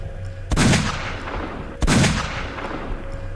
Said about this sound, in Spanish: 3 disparos.